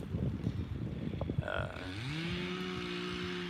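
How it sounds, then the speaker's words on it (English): A chainsaw engine revs up in the second half, a steady buzzing drone following rustling and wind noise, moderately distant. "you can probably hear the chainsaw now"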